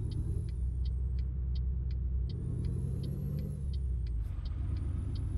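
Heavy truck in American Truck Simulator pulling onto a highway, a steady low engine rumble with a faint repeating high ticking, close and continuous without talk.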